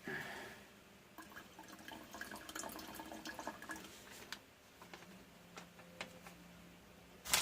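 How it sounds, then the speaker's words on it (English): Excess water trickles and splashes as it is poured out of an MRE cheese tortellini pouch, a soft, uneven stream that fades into scattered drips, close and fairly quiet. "Let's see if I can pour some of that back out."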